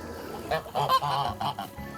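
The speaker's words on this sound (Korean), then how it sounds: "농장의 터줏대감 수컷 거위" A domestic male goose on a farm gives a short run of loud, nasal honks, three or four calls in quick succession, heard close and alone.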